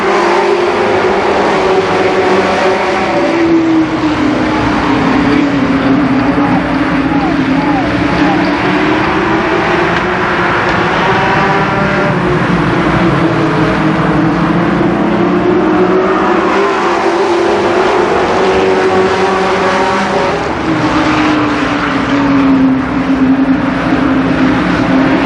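Race cars roar around Columbus Motor Speedway, a loud continuous engine drone whose pitch rises and falls in a repeating lap rhythm, with an announcer talking over it.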